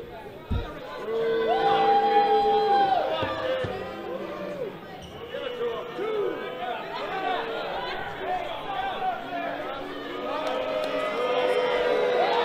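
Crowd at a live wrestling event cheering and chattering loudly throughout, with shouts rising and falling and a commentator talking over the noise.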